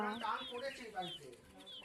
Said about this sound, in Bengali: দেখো কতগুলো মুরগি ছানা